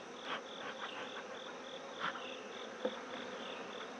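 Honeybees hum in a dense, steady drone around an open hive during an inspection, with occasional louder passes of single bees close by and faint knocks. No one speaks.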